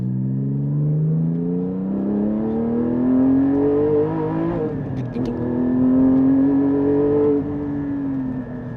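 A Porsche 718 GT4 flat-six engine revs up and down continuously, pitch rising through gears and dipping as it brakes, loud and close with a rough rumble.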